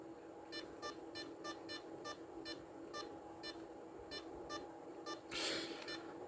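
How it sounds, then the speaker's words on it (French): A rapid series of short electronic keypad beeps from an Alcatel OT511 mobile phone, irregularly spaced like keys being pressed, fairly faint over a low hum, with a brief rustle near the end. "il y a toujours ce son agaçant de bip de touche"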